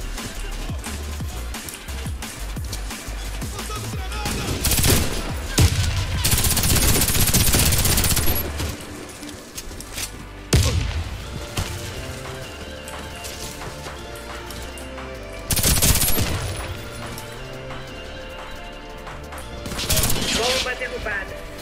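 An Uzi Pro submachine gun fires in a shooter video game, with several loud, rapid bursts spread across a round of play, while players talk over the action.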